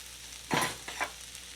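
Butter and oil hit a hot pan with a soft, brief sizzle that swells and fades, followed by a couple of quieter hissing stirs over low background noise.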